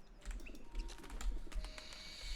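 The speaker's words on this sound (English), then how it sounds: "What are all these birds? Just like random birds?" Birds coo and chirp in a video game, a cluster of soft repeated calls and tweets over a low ambient hum, fairly close and without voices.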